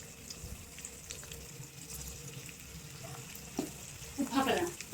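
Curry leaves and onions frying in a pan for avrekallu chitranna give a quiet, low sizzle with light stirring, rising to a brief crackling burst near the end.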